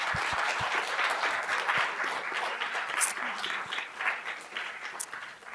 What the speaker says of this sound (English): Please join me in a round of applause to thank you.